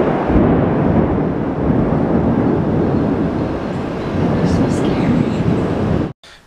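A deep, rolling rumble of thunder, loud and steady for several seconds before cutting off abruptly.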